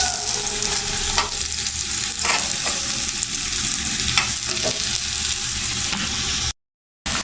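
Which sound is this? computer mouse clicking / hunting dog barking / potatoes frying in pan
potatoes frying in pan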